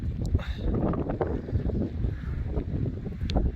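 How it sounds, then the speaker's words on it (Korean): Strong wind blowing across an open pepper field covered with protective fabric, a steady loud rumble and buffeting against the microphone with gusty swells throughout. "바람 많이 불고 있고요"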